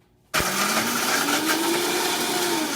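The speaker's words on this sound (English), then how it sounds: "I'm just going to blitz up in a blender" Thin Mint cookies, about ten of them, blitzed in a blender for cake decoration: a steady, loud whirring grind starts abruptly and runs continuously with a rising motor tone, no voices.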